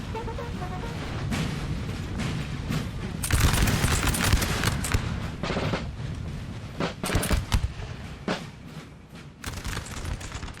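Musket lines trading volleys in a Napoleon Total War battle: dense, crackling bursts of gunfire pile up in irregular clusters, louder in the middle, with distant booms mixed in and no talking.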